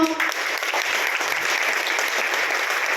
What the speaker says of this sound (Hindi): एक बार टीसी छाबड़ा जी के लिए जोरदार तालियां।